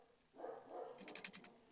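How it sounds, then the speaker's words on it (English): Dogs barking somewhere in the background, faint and muffled, a few quick yips and barks in a short cluster. "The dogs are barking again."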